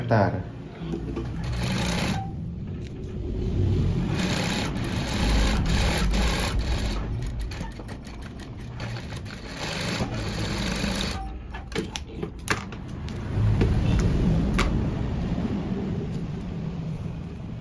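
A sewing machine stitches a lace sleeve seam on a child's garment in bursts of rapid mechanical whirring, stopping and restarting several times, while a person talks over it.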